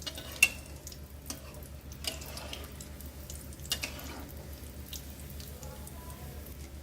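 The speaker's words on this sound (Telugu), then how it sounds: "మీడియం ఫ్లేమ్లో మాత్రమే వీటిని ఇలాగా ఫ్రై చేసుకోవాలి, లేదంటే లోపల ఫ్రై అవ్వకుండా బయట అనేది మాడిపోతుంది" Shakkarpara dough pieces fry in oil over a medium flame, giving a low, steady bubbling with occasional light taps and clicks from a utensil nearby.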